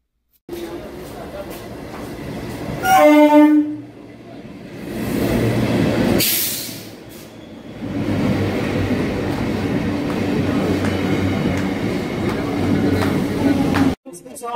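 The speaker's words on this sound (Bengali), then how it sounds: "ট্রেনে উঠে পড়েছি। ট্রেন ছেড়ে দিয়েছে।" A local train pulling in and moving off, a loud rumble with a horn-like blast, then steady rolling wheel noise and carriage rattle, with voices talking over it.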